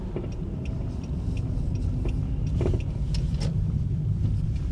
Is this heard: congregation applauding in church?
no